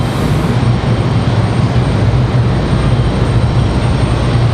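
Airliner at Raleigh Durham airport, a loud, steady broadband engine roar that holds unchanged throughout, with no voices.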